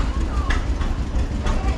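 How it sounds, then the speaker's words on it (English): Small ride-on toy train circling a track at a John Deere show at Rough and Tumble, with a steady low rumble and faint clicking under crowd chatter and nearby voices. "they got the little toot running around, the little train running around on the track"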